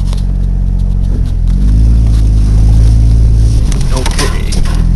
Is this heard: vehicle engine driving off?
yes